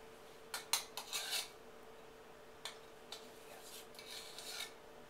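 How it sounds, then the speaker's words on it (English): A metal measuring spoon stirring milk with dissolved baking soda in a bowl gives a few faint, scattered clinks and light scrapes over a steady low hum. "give it a quick stir here with my measuring spoon so I know that it's all dissolved in the milk"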